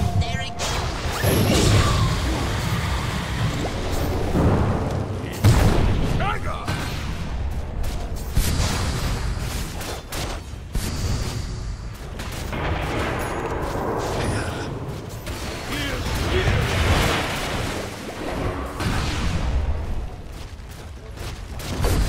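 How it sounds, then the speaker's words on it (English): Tower destruction in Dota 2 in the middle of a busy match, with dense crashes, impacts, whooshes and clanging battle effects piling up continuously over about twenty seconds. An announcer voice speaks over the game sounds. "Dire's bottom tower has fallen."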